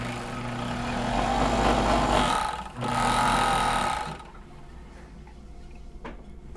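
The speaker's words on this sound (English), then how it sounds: "So this is a serger. It takes off the edge, cleans it up," A serger stitches and trims the edge of denim jeans, a loud steady mechanical whir for about four seconds that then cuts out, leaving a quieter background hum.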